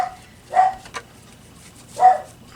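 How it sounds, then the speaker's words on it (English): A pet dog barks indoors, two short, fairly loud barks spaced about a second and a half apart, with a small yip between them and no talking. "And I don't know what my dog's barking at."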